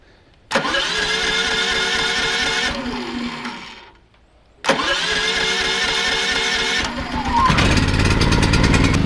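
A cold Champion CPG4000DHY-DF-EU dual-fuel inverter generator, 3.6 kW, cranks and fires up twice: the engine roars loudly for a few seconds, dies away, then restarts and runs steadily with a rougher note at the end.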